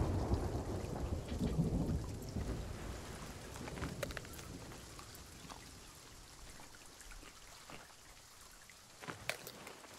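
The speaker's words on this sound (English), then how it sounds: "While we're waiting for the storm to pass" Stormy weather in the video game Sea of Thieves, with a loud thunder rumble at the start fading into constant rain and scattered sharp drips and crackles, no voices.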